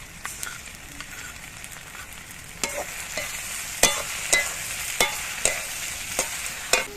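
Spring onion greens frying with green-chilli poppy seed paste in a pan, stirred with a spatula: a steady soft sizzle under a run of sharp, evenly spaced scraping strokes that grow louder toward the end.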